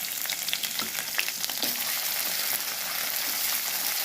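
Ginger, green chilli and panch phoron spices sizzle steadily in hot oil, a dense crackling fry with a few sharper spits and stirs, close and continuous with no talking.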